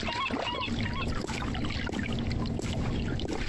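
A sailing boat moving across water in The Longest Journey adventure game, a steady wash of splashing and flowing water with a low rumble, continuous and fairly close.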